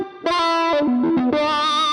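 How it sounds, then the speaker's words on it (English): A thick, meaty wah-pedal electric guitar tone through a custom-built wah inductor, distorted and sustained, sweeping across a few loud held notes with no talking. "such a meaty sort of wah sound."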